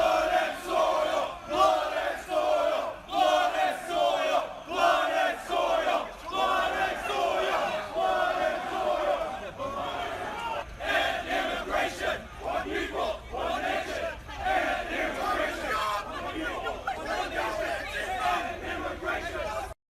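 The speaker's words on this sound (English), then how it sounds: "The alt-right demonstrators gathered late on Friday and chanted "Blood and Soil, One People, One Nation, End Immigration," as they carried burning torches through university campus" Crowd of alt-right demonstrators chanting in rhythmic unison while marching with burning torches through a Charlottesville university campus at night, a dense, loud, continuous mass of voices with pulsing shouted phrases.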